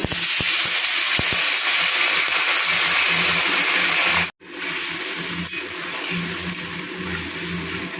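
Water poured into a pan of potatoes and pointed gourd for a spiceless chachchari, a steady loud rushing splash lasting several seconds with a brief break midway, then continuing.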